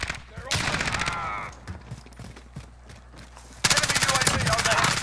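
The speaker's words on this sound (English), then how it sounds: "As soon as I stand up, start shooting at me." Gunfire in Call of Duty: Modern Warfare, rapid automatic bursts crackling in two loud stretches with a quieter gap between, close to the listener, while someone talks over parts of it.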